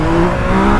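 A new motorcycle's engine revs hard in a short, loud, steady burst with a strong low tone and no voice over it.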